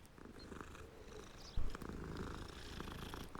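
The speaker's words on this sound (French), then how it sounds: "Ah, il y a un chat." A cat purring in the video game Hogwarts Legacy, a steady low rumbling purr up close, with a brief louder thump partway through.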